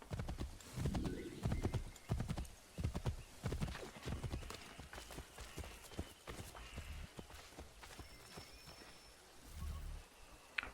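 Horse hooves clip-clop at a steady walking pace in Assassin's Creed III, close and even, with a faint whinny and quiet background sounds from the game.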